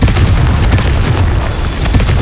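A Confringo blasting spell in Hogwarts Legacy erupts as a loud, continuous explosive roar with repeated sharp bursts and heavy low rumble, dense and close throughout.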